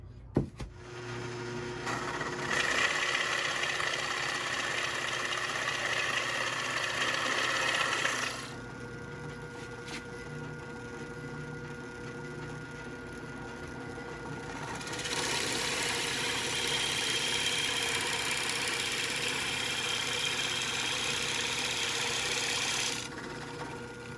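A power drill boring entrance holes in the front of a wooden roosting box, running in two long, steady whirring bursts separated by a quieter pause, close and with no talking.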